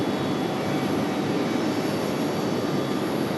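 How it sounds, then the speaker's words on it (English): A Boeing 757 jet airliner delivered in 1995 approaches Raleigh-Durham International Airport with a loud, steady, continuous roar of engine noise and no break or pause. "the 757 headed our way, delivered back in 1995"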